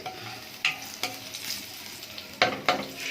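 Garlic fries in hot oil for noodles, a soft steady sizzle broken by a few sharp, close spoon scrapes and clinks against the pan.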